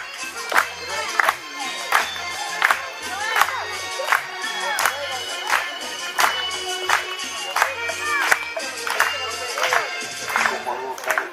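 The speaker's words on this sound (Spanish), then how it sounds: "A ver si me acompañan con las palmas." A live audience claps in steady rhythm along to a cumbia song, sharp regular handclaps repeating roughly every second over a murmuring crowd and music.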